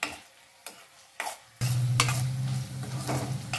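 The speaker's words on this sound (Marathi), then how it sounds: "आता कोळंबी आपण छानपैकी कांद्यात परतून घेऊया" Prawns sautéed with onions in a pan, a few sharp spatula scrapes at first, then a sudden loud steady sizzle as they hit the hot oil, with stirring clinks continuing close by and no talking.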